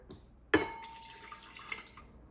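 About a third of a cup of water poured into a blender jar for chipotle sauce, a sudden splash and gurgle followed by a brief ringing trickle, close and quiet.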